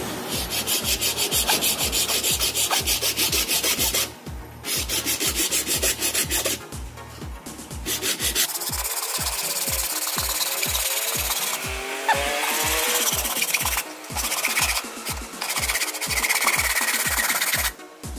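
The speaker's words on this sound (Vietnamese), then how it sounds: "Vừa cưa vừa canh nha các bạn." Hand saw cutting through a coconut shell, with steady rhythmic back-and-forth rasping strokes, loud and close, continuing without pause and no talk.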